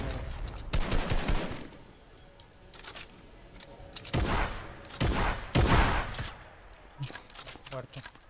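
Shotgun blasts in Fortnite come as several loud, sharp, irregular shots amid game noise, mixed with people talking excitedly.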